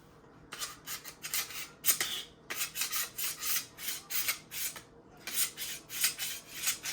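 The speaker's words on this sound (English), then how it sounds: "place it into the knife sharpener" A kitchen knife drawn repeatedly through a manual knife sharpener, giving a steady series of close, bright rasping strokes with short pauses in between.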